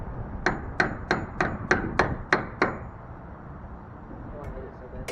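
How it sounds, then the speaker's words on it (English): Eight sharp metallic hammer blows at a steady rhythm as a wood chisel is driven against an aluminum rivet on a skoolie bus window skin, close and loud, followed by quieter shuffling. "I'm using wood chisel on an aluminum rivet"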